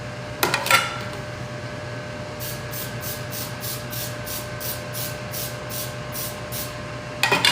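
A series of short, rapid bursts of cooking spray hiss onto pans in a quick regular rhythm, framed by a couple of clattering knocks at the start and end.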